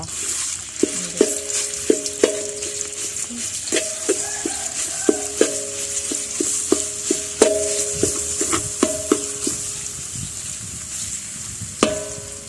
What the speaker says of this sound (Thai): ผัดพริกแกงใส่กับน้ำพริกเผา